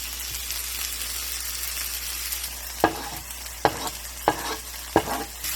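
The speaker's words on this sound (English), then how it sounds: "So we're going to stir that around and let that get nice and fragrant for about a minute." Vegetables with basil and fresh mint stir-fry in a pan, a steady close sizzle broken by four sharp scraping spatula strokes near the end, with no talking.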